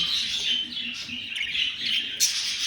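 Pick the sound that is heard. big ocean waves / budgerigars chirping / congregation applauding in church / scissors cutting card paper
budgerigars chirping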